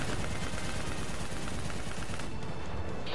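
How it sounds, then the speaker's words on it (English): A light machine gun fires in the Black Ops 3 video game, sustained rapid automatic bursts, loud and dense throughout, with battle noise filling the background. "This is one strong LMG."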